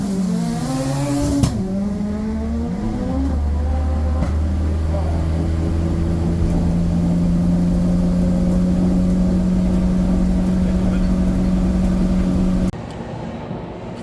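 A drag racing car's engine roars loud and close through a run, holding a steady strained drone with pitch shifts early on before cutting off abruptly near the end.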